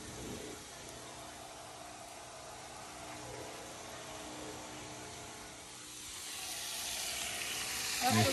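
Steady sizzling of food frying in hot oil, a continuous crackling hiss that grows a little louder toward the end.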